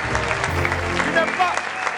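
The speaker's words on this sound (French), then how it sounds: "On l'applaudit très fort, monsieur Abba Champion." Applause for Abba Champion, a wick seller in Côte d'Ivoire, at a lively event; steady crowd clapping fills the whole moment, with a voice speaking over it.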